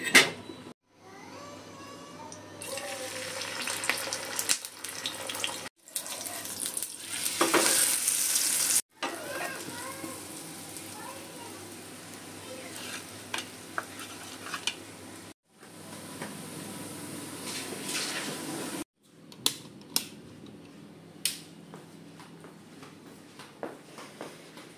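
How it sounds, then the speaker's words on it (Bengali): An egg fries in a pan in a home kitchen with a steady, fairly loud sizzle, broken by brief gaps and stirring or scraping clatter. "এখন হচ্ছে মেয়ের জন্য ডিম ভাজবো"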